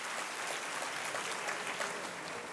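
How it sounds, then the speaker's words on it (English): Sustained audience applause at a college freshmen induction event for a cultural showcase, a dense, even wash of many hands clapping throughout, steady and moderately distant. "तो एक बार cultural showcase के लिए जोरदार तालियां."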